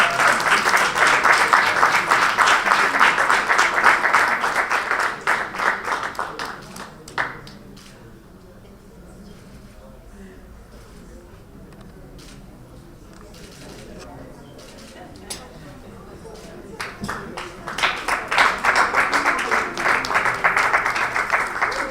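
Loud applause from an audience for designers at the Durban July media launch, a dense burst of clapping that fades to quiet murmur in the middle, then swells again into sustained clapping.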